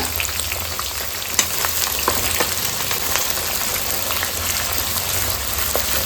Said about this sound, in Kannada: ಈರುಳ್ಳಿ ಚೆನ್ನಾಗಿ ಫ್ರೈ ಮಾಡ್ಕೊಳ್ಳೋಣ